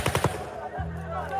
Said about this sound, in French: Des coups de feu sont tirés.